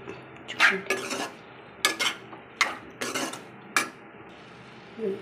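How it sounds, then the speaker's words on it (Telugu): A spoon clatters and scrapes against a pot while brinjal and tomato curry is stirred, giving about six sharp, close knocks at irregular intervals over a quiet background, with no talking. "ఇక కలుపుకుంటాను"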